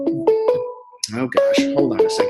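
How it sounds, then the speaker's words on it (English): A phone ringtone plays through a computer during a group video call, repeating a bright two-tone electronic ring several times while a nearby voice speaks over it. "That is my phone ringing because I have the wrong window open."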